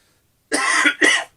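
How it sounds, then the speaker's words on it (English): Two quick, close coughs in succession, sharp and loud against silence. "There's me coughing now"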